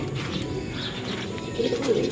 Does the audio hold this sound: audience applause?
no